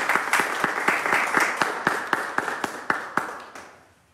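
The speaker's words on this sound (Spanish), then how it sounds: "Fuerte el aplauso para Yarexi." Spirited applause from a small group at a children's event, a string of sharp, evenly spaced claps over a dense clatter that swells and then fades out toward the end.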